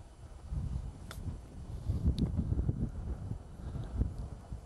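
Gusty wind buffeting the microphone on a golf course, a rough low rumble that swells and eases in uneven waves over a few seconds, with faint ticks in between and no speech.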